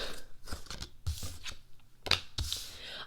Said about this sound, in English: So let's go ahead and start shuffling.